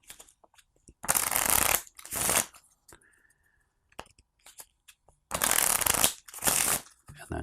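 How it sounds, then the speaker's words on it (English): A deck of cards is shuffled for a solo tabletop game, in two bursts of two quick riffling shuffles each, close and crisp, with pauses between the bursts. "So then we shuffle this deck up."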